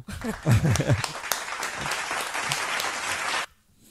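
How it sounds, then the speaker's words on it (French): An audience at a comedy impressions show breaks into loud, dense applause that runs for about three seconds and then cuts off abruptly, with a brief voice at the start. "On l'applaudit pour ça"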